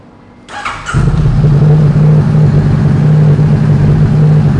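A Honda CBR500R motorcycle engine fires up and settles into a loud, steady, throaty idle with a rough pulsing rumble, close by.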